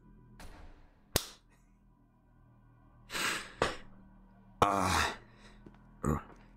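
In the game SCP: Secret Lab, a player fires a gun by voice command; a few sharp, separate cracks ring out across a quiet stretch, interspersed with short bursts of muffled noise.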